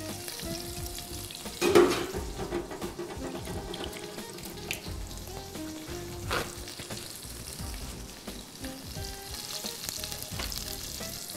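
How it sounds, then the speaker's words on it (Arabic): Garlic fries in a pan with a steady, close sizzle and crackle throughout, punctuated by a couple of louder clatters of a utensil. "هشوح بس كده الثوم بتاعي"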